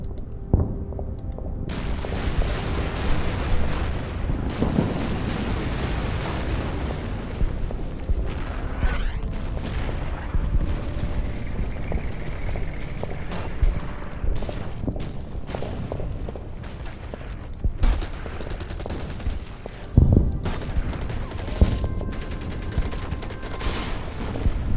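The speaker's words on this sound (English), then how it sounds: "Mortar attack." Artillery and mortar fire from the strategy video game Order of Battle, set in a battle on Guam: a dense, continuous series of booms and sharp blasts rumbles on for the whole stretch, with occasional louder impacts.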